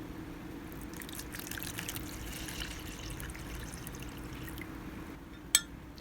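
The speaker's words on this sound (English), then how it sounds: "Now we're going to pour it into our gel mold here." Cold water poured into a gel mold at a lab bench for SDS-PAGE, a quiet, steady trickle with faint drips and one sharp click near the end.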